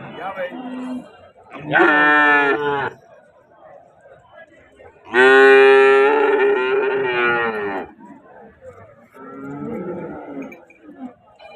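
A Jersey calf moos loudly twice at a cattle market in Punganur, long drawn-out bellows, with quieter animal sounds and murmuring voices in between.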